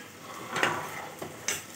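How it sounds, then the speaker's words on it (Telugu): Chapati noodles being stirred in a pan, a soft low sizzle underneath with a few light scraping clinks of a spatula against the metal at irregular moments. "కింద నుంచి పైకి బాగా మిక్స్ చేసేసుకుందాం."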